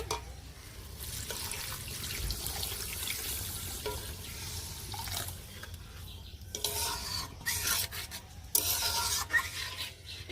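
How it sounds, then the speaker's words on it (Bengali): Water poured into a pan of Bengali egg masala curry with chili, giving a steady close hiss and rush that surges and fades in uneven bursts, with no talking. "বন্ধুরা জলটা দিয়ে দেবো"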